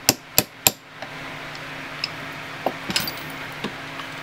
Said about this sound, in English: Let's do it with a small enough punch that we can actually punch it out.